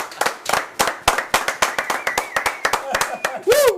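Audience clapping for a performer named Guilla at a small children's show, scattered individual claps in a steady rhythm with voices under them and a brief whistle-like tone near the end.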